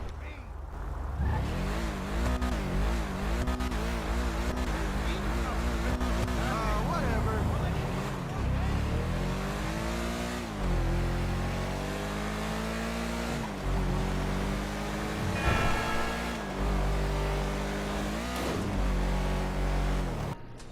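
Sentinel GTS sports car in GTA Online, its engine revving repeatedly with rising and falling pitch sweeps, loud and continuous throughout, with no speech.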